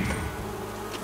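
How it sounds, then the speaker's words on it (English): Bees buzzing close by in a steady, continuous drone over a brief moment, with no voices. "Yeah, I think I hear bees."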